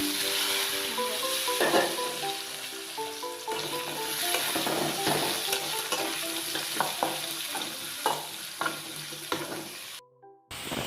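Paneer and cut potatoes fry in hot oil, a steady dense sizzle with crackling pops and occasional stirring scrapes, close and continuous, with a steady tone lying beneath it and a brief dropout near the end.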